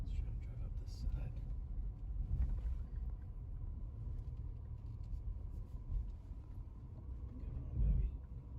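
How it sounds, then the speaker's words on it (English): A Mini ALL4 Countryman climbs a steep slope off-road, its engine giving a low, steady rumble close by, with a brief surge near the end. "Let's try to drive up this side."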